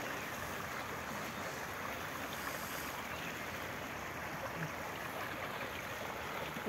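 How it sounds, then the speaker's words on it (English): Water flows under a small bridge in a park and spills into a pond, a steady, even rushing hiss with no voices over it. "the water passing under the bridge to the other side"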